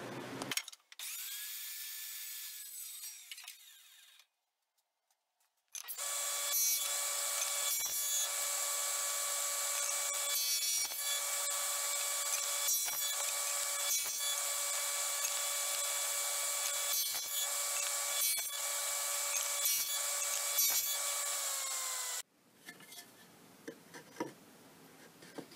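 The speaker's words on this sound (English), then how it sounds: "I'm probably going to cut these on my chop saw all down to 17 3/4" A chop saw cuts wood pieces for upcycled side tables: a loud, steady motor whine holds for about sixteen seconds under faint cutting noise, with a brief quieter spin-up before it and workshop clatter after it stops.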